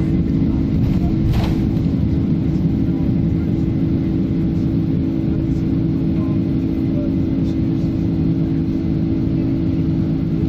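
A steady, loud roar of an airplane on takeoff, recorded handheld on a DSLR, fills the whole stretch, a continuous low rumble with no pauses.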